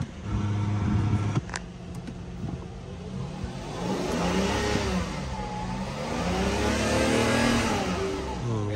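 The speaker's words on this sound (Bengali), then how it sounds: "ইঞ্জিনটা চালু দেন একটু, আওয়াজটা দেখেন" A V12 car engine, an older car in Japan, revving up and down in smooth rising and falling sweeps after a brief clunk, loud and close with no voices over it.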